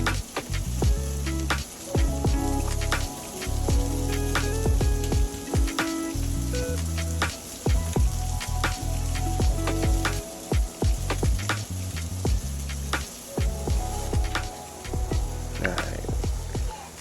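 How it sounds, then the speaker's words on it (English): Water sprayed onto a hot skillet sizzles steadily, with crackling pops and bursts of hissing steam continuing for several seconds, close and fairly loud. "So I spray a little bit of water on my skillet just to give it a quick little steam up"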